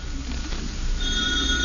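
A telephone bell rings in an old-time radio family comedy from 1953, heard as a steady electric ring with a faint hum beneath, carrying on alone with no talk over it.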